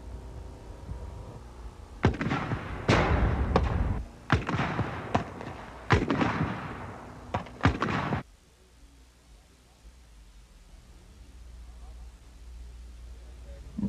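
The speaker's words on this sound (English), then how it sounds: "Firing the LAW rocket is another thrill." Practice rounds from a LAW rocket launcher fired during 1980s US Army basic training: a cluster of sharp, heavy bangs and thuds over several seconds, followed by quiet outdoor background.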